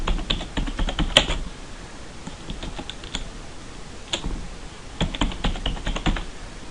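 Quick bursts of typing on a computer keyboard, close and fairly quiet, with clusters of rapid key clicks separated by short pauses.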